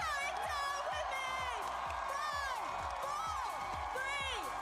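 A live convention crowd at TwitchCon cheers and whoops loudly and continuously, with shrill whistles and cries rising over a steady roar.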